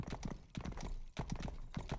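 Horse hooves galloping in the video game Rustler, a fast, steady clip-clop rhythm of close, loud hoof beats with a brief dip in the middle.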